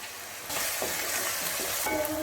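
Onions with ginger-garlic paste and salt fry in oil in a pan, a soft sizzle that grows louder after half a second, with faint scrapes of stirring running through it.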